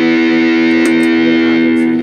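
An electric guitar through a Mark 4 amp model holds one loud, sustained, saturated chord that rings steadily for about two seconds before cutting off.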